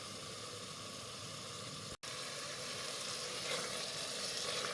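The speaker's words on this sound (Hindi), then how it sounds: "यहाँ पर मसाले के साथ इसको 2 से 3 मिनट तक भूनेंगे।" Homemade nihari masala fries in a pan with a steady, close hiss of sizzling that runs almost unbroken, apart from one momentary cut, and grows a little brighter toward the end.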